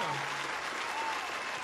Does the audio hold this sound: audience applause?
yes